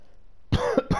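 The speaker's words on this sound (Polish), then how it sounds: "O kurka, wodna, jakiś kaszel." A person coughs in short bursts in the Detroit: Become Human video game: one loud hack, a smaller cough, then another, all close and clear after a near-silent start.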